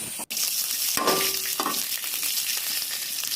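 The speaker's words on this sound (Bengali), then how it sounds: "পাকা টমেটোগুলো দিয়ে একটু ভাজা ভাজা করে নিচ্ছি" Chicken and ripe tomatoes fry in oil, seasoned with onion, ginger paste and salt, for kids' chicken vegetable noodles. A steady close sizzle hisses throughout, briefly cut near the start, with a couple of clinks and stirring scrapes.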